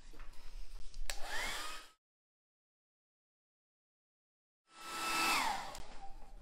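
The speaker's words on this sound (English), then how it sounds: "Let me get the hair dryer" A handheld hair dryer drying paint on a wooden box, a loud close whooshing blow that runs for about two seconds, cuts to silence, then starts again with a falling whine as it spins up.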